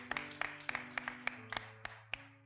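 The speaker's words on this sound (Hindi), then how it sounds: "सम्मान कीजिए, तालियां बजाकर।" Congregation at a Hindi-language church service clapping in a few quick bursts of hand claps, fairly close and distinct, with short gaps between, over a low steady background hum.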